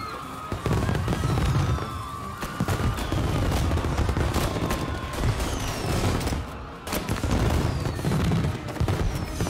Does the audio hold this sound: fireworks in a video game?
yes